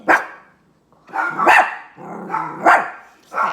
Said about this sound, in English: it's like these dogs barking